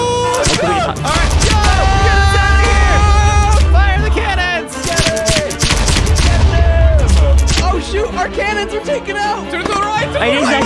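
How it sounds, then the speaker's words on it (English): Cannon fire rings out during a Minecraft pirate ship battle, bursts of blasts mixed with game effects and background music while several players shout excitedly over the action. "line up so we can shoot cannonballs"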